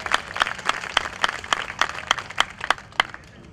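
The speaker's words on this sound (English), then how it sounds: "Give them a nice round of applause again, please." A small audience at the Hastings Sings 2021 singing competition claps for the judges: distinct, fairly evenly spaced hand claps from a modest crowd, moderately loud and free of talk.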